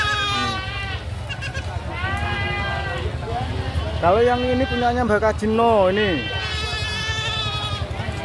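Goats bleat repeatedly, loud and close, at the Pasar Pon livestock market in Kalidawir, Tulungagung. Their wavering calls overlap one another while someone talks throughout over a busy market murmur.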